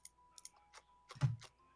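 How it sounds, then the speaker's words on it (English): A handful of sharp clicks in uneven, hurried succession, fairly quiet and close, with a soft low thump near the end and no voices. "Very, very aggressive clicking."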